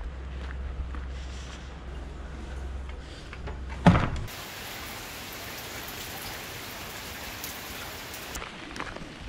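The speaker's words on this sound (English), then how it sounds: "we are under the trees and it is raining" Rain falls on the tree canopy in the wooded Lydford Gorge on Dartmoor, a steady, soft hiss of pattering drops that continues throughout, with one brief dull knock partway through.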